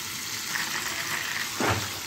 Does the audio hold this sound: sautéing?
yes